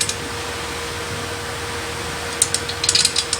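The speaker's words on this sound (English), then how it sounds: "I go to a standard 5mm hex to do my final tightening" A standard 5mm hex tool gives the final tightening on a Cremina espresso machine during reassembly, a steady close mechanical hiss giving way to a quick burst of small metallic clicks and ticks near the end.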